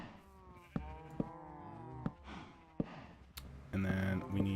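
Minecraft cows mooing in the Enigmatica 2: Expert modpack, several short repeated moos with clicks between them, then a louder sustained moo near the end, with no talking over them.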